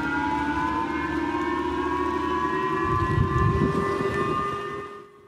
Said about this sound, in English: causing air raid sirens to go off in Tokyo